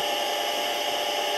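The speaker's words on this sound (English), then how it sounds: "Put the spindle on, put the coolant on," A CNC machine runs a short cycle with its spindle and coolant switched on, giving a steady, even high-pitched machining whine and hiss that holds at a constant level throughout.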